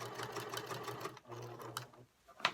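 A sewing machine stitches fusible-fleece seams around a fabric basket in close, steady bursts of whirring, with a brief pause and a final short run.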